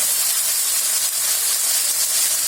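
Finely chopped tomatoes are sautéed in a pan for a country chicken gravy. A steady, loud, close hiss of steam and sizzling holds evenly with no pauses.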